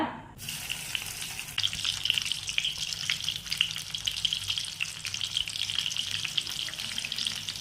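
Beetroot and carrot cutlets fry in hot oil over medium heat, giving a steady, dense sizzle and crackle that starts abruptly and then holds at an even level throughout, with no talking.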